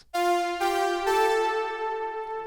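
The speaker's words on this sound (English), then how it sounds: "Oscillator A is a saw wave with 4 voices of unison and a bit of detune sounding like this." A Serum synth saw wave stacked with four detuned unison voices plays a few sustained notes, bright and buzzy with a wide, slightly wavering shimmer, close and alone.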